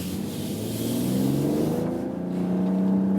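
A BMW X3 M40i SUV's inline-six engine hums steadily under gentle throttle on a winding road, a continuous close, low drone with a slowly rising pitch throughout.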